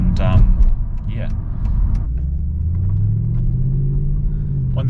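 A Mercedes W211 E63 pulls along a back road, its deep V8 rumble rising and holding in a steady acceleration after a brief opening burst, close and loud, with short bursts of talk over the top.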